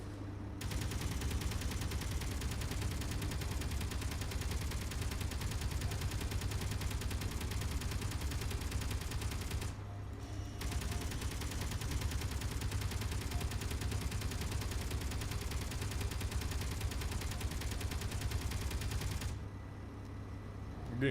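Video game machine gun firing in long unbroken automatic bursts, steady and loud, with two brief pauses between streams of fire.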